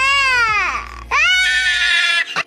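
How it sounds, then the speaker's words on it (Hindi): A cartoon cygnet cries loudly in long, wailing sobs, two drawn-out bursts broken by a short pause and a final sharp whimper, loud and close. "फिर सफेद बच्चा खुद को पानी में देखता है और जोर जोर से रोता है।"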